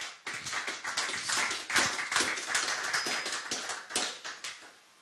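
A church congregation applauding together, a loud, steady burst of many hands clapping that fills the room and fades out at the end.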